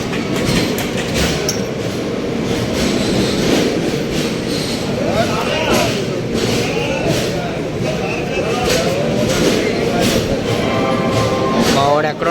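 East Coast Express train running on the Secunderabad to Visakhapatnam line as it nears Rajahmundry station, heard from inside a 3-tier AC economy coach: a loud, steady rumble with clickety-clack and occasional wheel squeal throughout.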